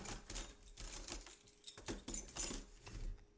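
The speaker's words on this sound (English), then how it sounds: "you heard the noise of the keys" A bunch of keys jangles and clinks in several short metallic bursts, fairly quiet and close, with brief pauses between shakes and no talking.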